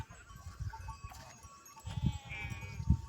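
Goats and sheep bleat faintly outdoors amid low rumbling background noise, with a thin wavering call rising near the end.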